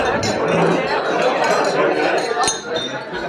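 Glasses clink at a wedding reception as the groom raises a toast to his bride, with bright, quick chimes over a busy murmur of guest chatter close by.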